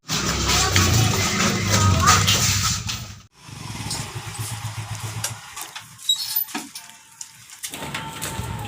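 A motorcycle engine starts and settles into a rough idle, loud and close at first and then fading, while people chat casually over it.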